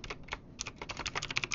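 Quick, crisp keystrokes clatter on a computer keyboard as a command is entered, a short uneven burst of close clicks with a brief pause before a faster run of taps.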